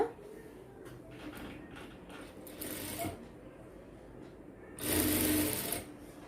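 Sewing machine stitching a sleeve, running in short bursts of rapid mechanical clatter with pauses and handling noises between, the longest and loudest run near the end.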